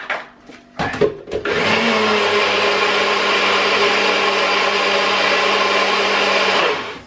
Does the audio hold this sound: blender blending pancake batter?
yes